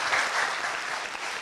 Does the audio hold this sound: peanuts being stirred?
no